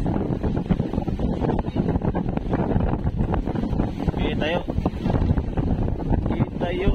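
Strong wind buffets a boat out on the Pacific Ocean, rumbling and gusting loudly throughout while someone speaks briefly over the roar.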